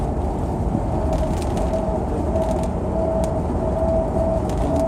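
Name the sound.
strange automatic transmission noise while driving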